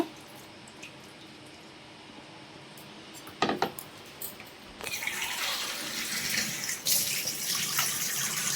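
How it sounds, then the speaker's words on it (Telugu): Ration rice being washed in water in a home kitchen, with sloshing and splashing that grows louder and steadier in the second half after a few sharp knocks. "రెండుసార్లు మూడుసార్లు కడుక్కోండి రేషన్ బియ్యం కాబట్టి"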